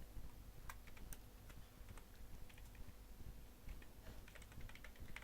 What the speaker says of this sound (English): I will just type out to the user